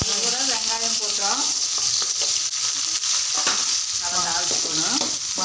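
Cumin and fennel seeds frying in hot oil in a pan for an egg noodles masala dish: a steady bright sizzle with crackling pops throughout, close and loud, under a voice speaking at intervals.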